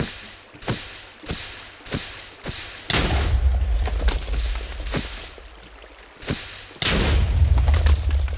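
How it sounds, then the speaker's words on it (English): Repeated booming explosions from a boss creature in a Minecraft magic mod, a series of heavy blasts, some sharp and spaced apart, others rolling into longer rumbling roars, loud and close. "his explosions hurt a ton, so be careful of those"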